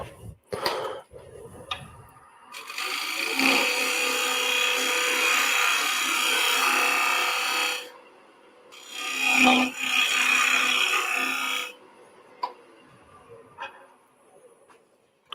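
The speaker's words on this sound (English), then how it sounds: "just gonna grab this scraper quickly just to clean up that edge a little bit." A hand scraper works the rough edge of a wooden piece spinning on a woodturning lathe, giving two sustained raspy scraping passes separated by a brief pause, close and fairly loud, with small knocks between.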